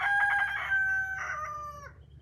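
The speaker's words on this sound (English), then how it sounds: "This is the biggest chicken I got." A large hen, the biggest in an urban backyard flock, gives a loud, close crowing call lasting about two seconds, then trails off.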